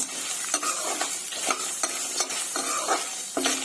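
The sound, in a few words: coconut pieces frying and being stirred in a pan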